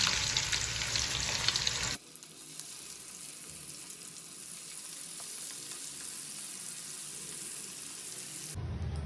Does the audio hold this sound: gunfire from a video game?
no